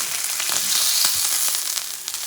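Bison bacon fries in a cast iron pan, a close, steady crackling sizzle with scattered pops throughout and no talking.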